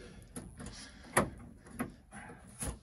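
Driver's door of an abandoned Pontiac GTO that has sat for 21 years, opened and shut in a few quiet clunks and rattles, spaced over a couple of seconds.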